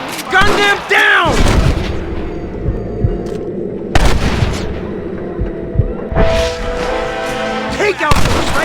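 Gunfire in the western video game Red Dead Redemption: loud, sharp shots burst out now and then over a tense battle scene, with game characters talking between them.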